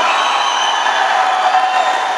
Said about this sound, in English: Let's welcome our beloved principal, Professor K.P. Sufi of PA Polytechnic, with a huge, thunderous round of applause.